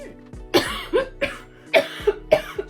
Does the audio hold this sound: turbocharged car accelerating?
no